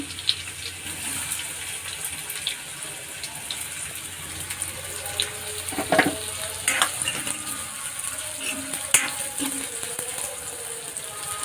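Ginger garlic paste and onion fry in hot oil for pav bhaji, a continuous close sizzle with occasional spoon clinks and stirring scrapes.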